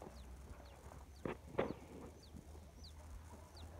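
A chicken clucks faintly in a vegetable garden, with a few short, soft calls over quiet outdoor background noise.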